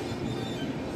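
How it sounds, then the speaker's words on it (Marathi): A crowded passenger train pulls out of Nashik Road railway station, its steady, close rumble of wheels and carriages filling the moment with no talk. "आणि ट्रेन देखील आता मार्गस्थ झालेली आहे"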